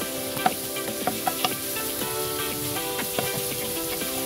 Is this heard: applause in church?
no